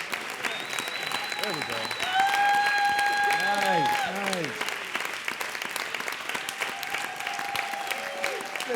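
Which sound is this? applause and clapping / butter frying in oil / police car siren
applause and clapping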